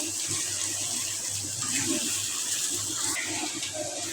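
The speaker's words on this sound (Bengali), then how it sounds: "এই জায়গায় মাছ ধুয়ে রাখছি" Fish being rinsed under a running kitchen tap, a steady close splash and gush of water filling the sink throughout, with a few clattering knocks mixed in.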